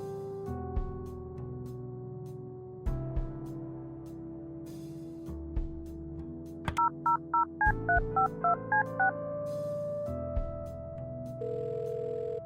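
Telephone dialing to a motel in the video game Kathy Rain 2: a dial tone and line clicks, then a quick run of DTMF keypad beeps, followed by a steady tone and a ringback hum, clear and close with no talking.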